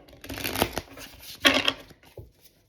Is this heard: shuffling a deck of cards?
yes